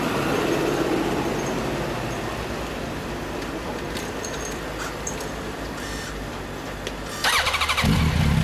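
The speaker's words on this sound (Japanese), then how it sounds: "エンジンかけてもらえますか。" A 2014 Honda CBR600RR HRC sport bike engine runs nearby with a steady, dense mechanical rumble, then revs up sharply near the end, loud and alone without voices.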